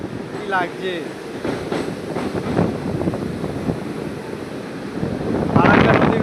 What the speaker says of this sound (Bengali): এখন আমরা ট্রেনে যাচ্ছি।